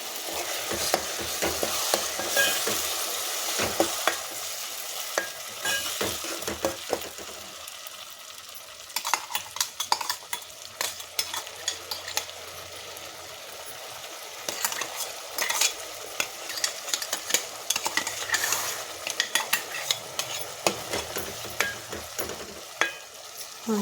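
Ground tomatoes are stirred into softened onions in a pan for a chole curry. A spoon scrapes and clinks repeatedly over a soft frying sizzle, with short bursts of stirring and brief pauses between them.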